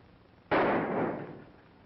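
A single gunshot in a 1942 Western shooting contest, one sharp loud crack with a short rumbling decay, alone with no talk.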